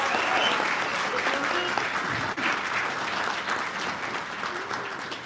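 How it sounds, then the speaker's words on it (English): Loud, dense applause from a convention panel audience fills the room at a Hasbro panel, a continuous clapping roar that tapers slightly toward the end. "Let's give him a large round of applause."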